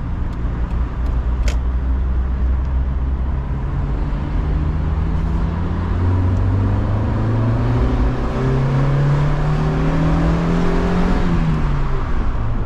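A Mazda Miata MX5 with a naturally aspirated engine accelerates steadily. The loud, close engine drone climbs gradually in pitch as the revs rise, then eases near the end.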